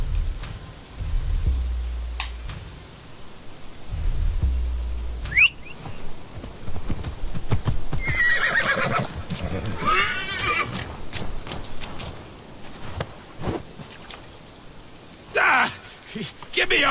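Horse in the video game Assassin's Creed Valhalla, neighing loudly and galloping with rhythmic clip-clop hooves, mixed with game effects and occasional voices.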